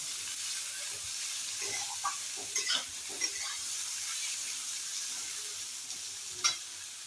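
Parboiled kharkol leaf stalks fry in a pan, a soft steady sizzle with scattered clinks and scrapes as they are stirred up close.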